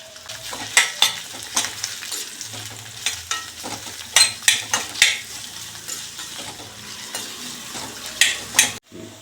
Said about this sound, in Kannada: ಅದಕ್ಕೆ ಎಲ್ಲನೂ ಹುರಿದ್ಬಿಟ್ಟು ಮಾಡ್ತಾ ಇದ್ದೀನಿ ನಾನು